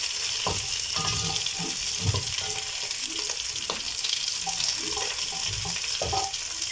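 Brined chicken browning in a hot pan under continuous stirring: a steady hissing sizzle with frequent thuds and scrapes of a utensil against the pan, close and unbroken, with no talking.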